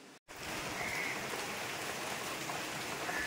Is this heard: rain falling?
yes